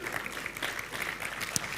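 Steady congregational applause fills a church hall during an Easter service, a dense, continuous patter of many hands clapping at moderate loudness throughout the brief moment.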